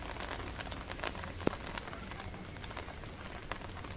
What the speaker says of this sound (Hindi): बूंदाबांदी हो रही है